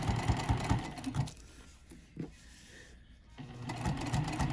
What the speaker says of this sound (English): just go ahead and sew right on the seam lines